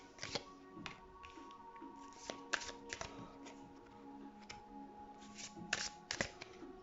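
Oracle cards are shuffled and drawn during a psychic reading, producing faint, close flicks and soft riffling taps in scattered bursts over a quiet room tone.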